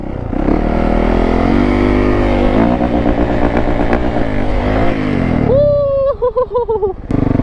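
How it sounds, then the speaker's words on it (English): A Yamaha YZ450 dirt bike engine braking up close, loud and rough, its pitch wobbling and sagging as the revs drop, then cutting off abruptly near the end. "Bro, this thing had so much engine brake."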